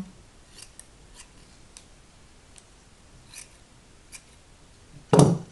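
Scissors snip through sheer organza fabric while cutting out a flower shape: a handful of faint, crisp, spaced snips, then one louder, closer cut near the end, with no talking.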